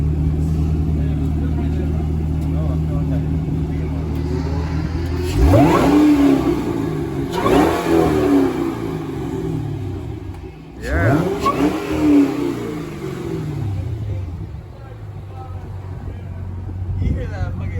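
A Cadillac CTS-V with a muffler delete idles with a deep, steady rumble, and the throttle is blipped three times into loud, raspy revs; a voice speaks briefly.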